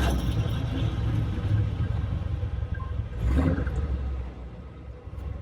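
A 1970s Dodge D100 pickup truck engine revs with a deep, rumbling roar. It swells up once around the middle, close and steady, with no talking.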